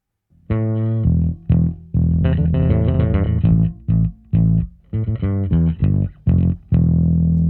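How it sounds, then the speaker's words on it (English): A clean bass guitar plays a choppy line of short and sustained notes, close and full, alone with no other instruments. "this is just the regular bass part again"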